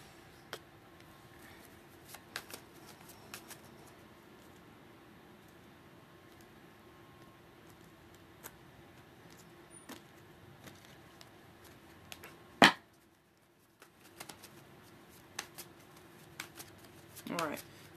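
Tarot cards being shuffled by hand during a reading, soft repeated riffling and taps under a quiet room tone, with one sharp louder snap near the end and a short flurry of card sounds after it.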